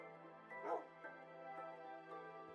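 Dogs in the video game Minecraft bark and whimper in a snowy landscape: a handful of short, yippy cries at moderate volume over a steady low hum.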